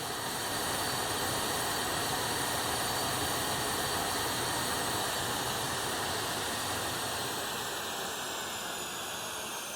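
Jet engines of a Challenger 650 business jet in a flight simulator, a loud, steady broadband roar with high whining tones, running unbroken at full level for the whole stretch with no talk.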